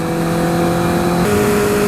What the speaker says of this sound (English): That Tochi exhaust sounds awesome.